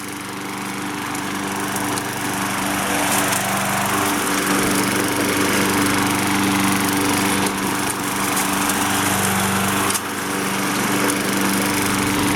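A free Craftsman 6.75 hp self-propelled gas lawn mower runs steadily while cutting a suburban lawn, its loud engine droning close by without a break, with a slight dip in pitch as it works through the grass.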